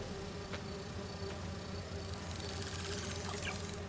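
Steady buzzing of virtual bee wolves in the video game Marvel's Spider-Man 2, a continuous insect drone with a low hum beneath, brightening and growing busier in the second half.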